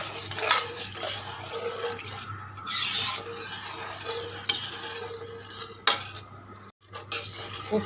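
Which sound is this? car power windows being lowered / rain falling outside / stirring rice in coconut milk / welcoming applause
stirring rice in coconut milk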